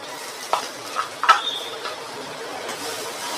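Wet ground coconut masala paste goes into a pan for a masala fish dish, making a few soft scraping and stirring sounds followed by a faint sizzle in a quiet kitchen.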